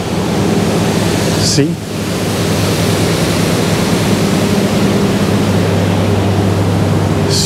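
Rushing water pours steadily at a water station on the River Ruhr, a loud broadband roar that barely changes, with a brief word spoken over it.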